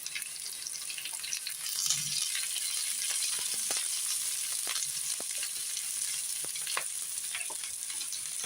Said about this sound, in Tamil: இப்போ கட் பண்ணி வச்சுருக்கிறேன் கிரீன் சில்லியை போட்டுடலாம்.